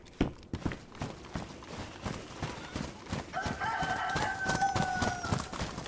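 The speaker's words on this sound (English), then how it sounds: "I hear a chicken." A chicken in the winter Chernarus map of the video game DayZ gives a drawn-out, rooster-like call in the second half, heard over steady rhythmic footsteps and background game ambience.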